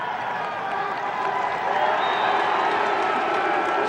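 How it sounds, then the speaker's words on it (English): Cheering Cornell fans at a 1987 NCAA men's lacrosse game against Syracuse, a sustained wash of crowd noise and clapping that swells slightly toward the end, with a commentator's voice faintly mixed in. "And the Cornell crowd is loving it."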